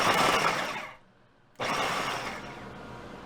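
A food processor pulses chopped peppers for a summer stew in two loud whirring bursts, the first about a second long, then a half-second pause before a second, longer burst that trails off.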